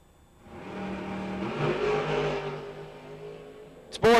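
A multicolored winged dragster launches at a western Colorado bracket drag strip, its engine note swelling into a loud sustained roar that fades slightly as it pulls away, ending with a sharp burst of noise.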